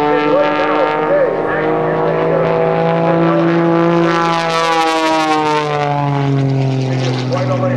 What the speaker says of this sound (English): She rolls the airplane twice, holds it upside down, and pushes the stick forward.